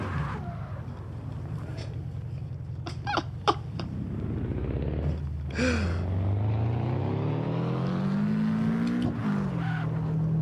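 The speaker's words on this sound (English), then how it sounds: "Wayne, tell this man about my behemoth of a race car in the driveway" A video game race car engine drones and revs steadily, pitch climbing as it accelerates, with a few brief squeaky chirps early on, loud and continuous.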